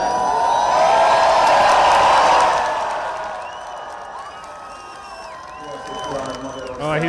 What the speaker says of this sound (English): Oh, I hear cheering.